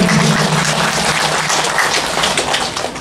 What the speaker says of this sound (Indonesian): Kasih aplaus untuk Ibu Wakil.